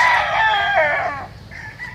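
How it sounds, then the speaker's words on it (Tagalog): Roosters crowing and chickens clucking close by on a chicken farm, a loud burst of farmyard fowl calls that trails off into quieter clucks. "Manukan to, farm ng manok"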